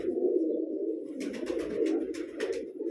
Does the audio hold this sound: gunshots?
no